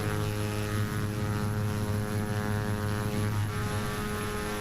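Propeller aircraft engine in the flight simulator game FSX runs at full throttle, a loud, steady droning hum with strong tonal harmonics held without change from start to end.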